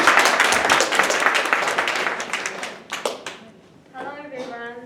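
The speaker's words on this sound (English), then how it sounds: "Let's give Jenna a round of applause." Audience applause at a school English speech contest, a dense burst of clapping that thins out after about three seconds before a speaker's voice begins near the end.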